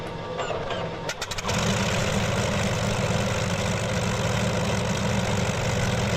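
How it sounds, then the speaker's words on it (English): A Curtiss P-40B Tomahawk radial engine in Microsoft Flight Simulator catches with a few sputters, then settles into a loud, deep, steady idling rumble. "That's a cool engine sound,"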